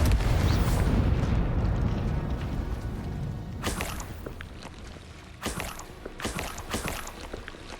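Confringo blasting spell cast in Hogwarts Legacy, a loud rumbling blast at the start fading out, followed by several sharp crackling bursts later on.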